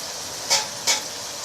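Onions frying in oil with a spoonful of butter give a steady soft sizzle, with two brief brighter hissing surges as the pan is stirred, close and without talk.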